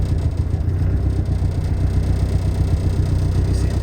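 A turbocharged Honda B18B1 engine idling during tuning on pump 93 fuel, a steady loud low rumble with an even pulsing beat, close and continuous with no voices.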